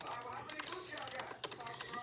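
Rapid typing on a computer keyboard during a typing test. Quick, uneven clusters of light key clicks run throughout at close range, with brief pauses between bursts, and there is no talking.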